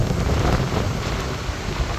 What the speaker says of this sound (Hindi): इधर बिजली भी कड़क रही है।